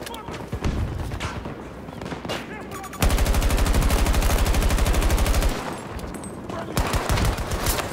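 Gunfire in the Battlefield 2042 video game: loud, rapid machine-gun bursts, with a long sustained stream in the middle and scattered shots around it, all dense and up close.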